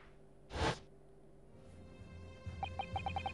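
In The Great Ace Attorney Chronicles, a single short, sharp bang from a firework sounds much like a gunshot. It is followed by a run of faint, quick electronic blips in a quiet game scene.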